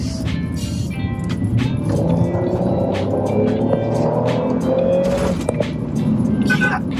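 A 2004 Ford Escape XLT with a 3.0 V6 engine accelerates hard, its loud engine note rising steadily in pitch over a constant road roar, heard from inside the car with some voices over it.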